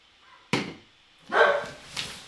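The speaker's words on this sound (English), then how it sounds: "They hear the neighbor dogs barking" Neighbor dogs barking nearby, three sharp barks spread out with pauses between them, the middle one longer and louder, with a quiet background.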